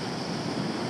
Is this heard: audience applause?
no